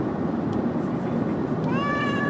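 A pet cat gives one drawn-out meow near the end, loud and close, over the steady rumble of a car interior during a long drive.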